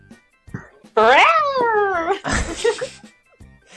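A person's voice imitates a cat's meow, a loud, drawn-out wavering cry with falling pitch, followed by a burst of laughter and noisy chatter from a group in a studio game show.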